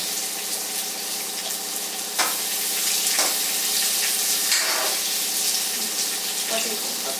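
Ginger and sliced onion frying in oil in a pan, a steady bright sizzle with a few louder surges as ingredients are added and stirred, close and fairly loud.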